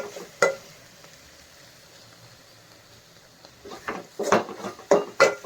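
Cabbage keema fry stirred in a pan gives a quiet, soft sizzle, with a single sharp scrape early on and then a run of louder spoon scrapes and clinks near the end. No one speaks.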